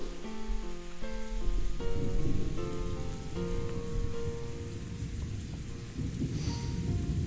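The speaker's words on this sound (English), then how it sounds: "At that time, the sound of thunder rang out" A thunderstorm in the Umineko visual novel brings steady rain and deep rolling thunder beneath a slow piano melody, with no voices.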